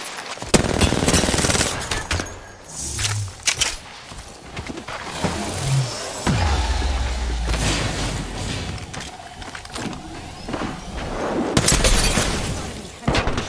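Rapid gunfire and sharp shot bursts from the Apex Legends battle royale game, loud and repeated in clusters across the clip, with someone talking over it.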